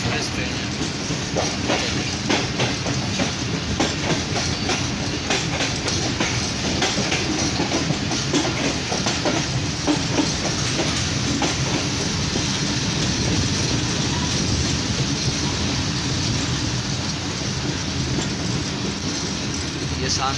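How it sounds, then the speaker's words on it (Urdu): The 15 Up Karachi Express, a Pakistani passenger train, approaches a junction with a loud, continuous rumble and rhythmic clatter of wheels over rail joints, heard close and steady throughout. "کراچی ایکسپریس اپروچ کر رہی ہے ہمارے جنکشن"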